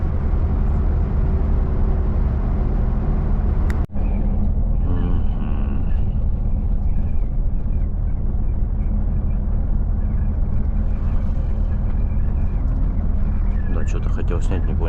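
Volvo FH 540 truck driving on a road toward Yakutsk, with a steady loud engine and road rumble throughout, one brief sharp click partway through, and someone talking over the drone.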